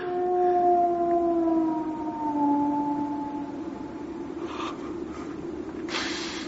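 An eerie, wavering howl drifts across a moor as the cry of the Hound of the Baskervilles, a long falling tone over a low rumble, followed by a few faint rustling noises.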